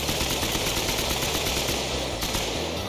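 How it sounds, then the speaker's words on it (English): A minigun fires in a dense, continuous, loud roar of rapid shots in the Serious Sam Vietnam mod video game, sustained for the whole stretch with no pauses. "I guess we have a minigun now"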